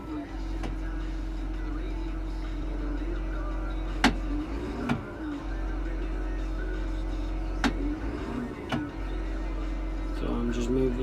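Car engine under a cylinder misfire test, idling steadily with several sharp brief throttle blips spaced a few seconds apart, and a rise in engine note near the end.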